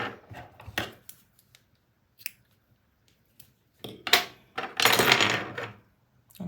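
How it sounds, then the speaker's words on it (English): Scissors snip through crochet yarn in a few short, sharp cuts near and close, spaced between quiet pauses, ending in a longer rustling burst. "and cut off the yarn."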